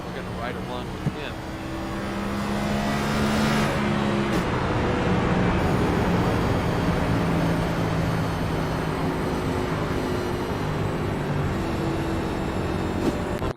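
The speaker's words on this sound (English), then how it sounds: "looks like Yazik just went down into 1 and 2, kind of lost control of the rear end of that car" Race cars at Phoenix Raceway in the iRacing sim game, a loud continuous engine roar with droning tones that rises and holds, close and steady, with no talk over it.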